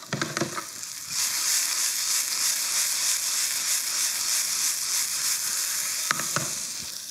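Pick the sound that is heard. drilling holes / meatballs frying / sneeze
meatballs frying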